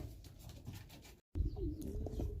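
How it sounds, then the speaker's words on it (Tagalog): Racing pigeons coo in a loft, soft low throaty calls repeating close by against a steady background, broken by a brief cut of silence. "Ayan po mga kalapatids."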